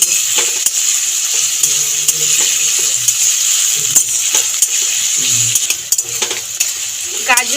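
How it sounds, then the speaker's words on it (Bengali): Carrots and beans fry with a little salt in a pan, a steady loud sizzle running throughout with a spoon scraping and clinking against the pan as they are stirred, heard close with no talking. "অল্প একটু নুন দিয়ে নেড়ে চেড়ে ভাজতে থাকবো।"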